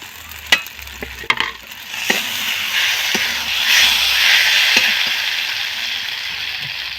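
Soybean chunks are added to potato and spices in a pan, with a steady loud sizzle of frying and occasional sharp clinks and scrapes of the spoon stirring, close up and with no talk.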